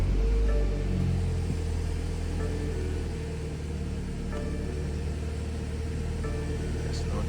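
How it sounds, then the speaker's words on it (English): BMW 330i xDrive engine idling after a start, a steady low rumble with faint tonal hum and a strong thump at the very beginning. "I'm gonna go ahead and start the car."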